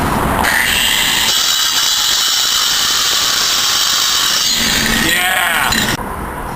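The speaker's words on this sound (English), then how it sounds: "I've taken the grinding wheel off and put a diamond saw blade on the body grinder. It's great cutting." A body grinder fitted with a diamond saw blade cuts with a loud high whine and gritty rasp for several seconds, then winds down near the end.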